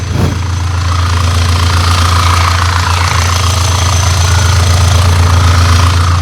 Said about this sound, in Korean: 이제 바로 엔진 소리 한번 제가 들려드리도록 하겠습니다